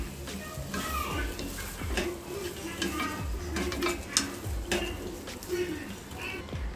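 Flattened rice (aval) mixture is stirred in a pan, a continuous scraping and shuffling with occasional light taps of the utensil on metal, fairly close and even throughout.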